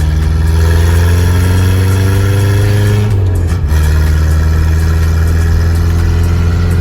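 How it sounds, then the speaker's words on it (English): A diesel truck engine idles nearby with a loud, steady low rumble, its pitch dipping briefly midway before settling back into an even drone. "Diesel truck."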